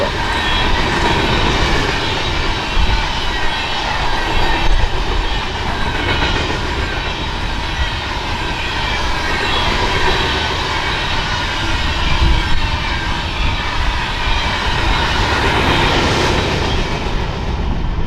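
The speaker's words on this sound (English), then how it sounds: "our eastbound empty grain train" An eastbound empty Union Pacific grain train rolls past on the desert Sunset Route, a loud, continuous rumble of rail cars with rhythmic clickety-clack over the track that holds steady throughout.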